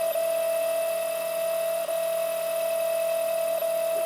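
A 3D printer laying down plastic onto a heated bed, a steady loud motor whine with a constant tone and faint periodic ticks, heard alone.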